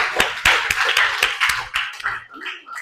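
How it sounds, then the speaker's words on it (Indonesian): A class claps for a group that has just finished presenting, a burst of several sharp, closely spaced claps from a small group that thins out over about two seconds, followed by a brief indistinct murmur. "kasih tepuk tangan"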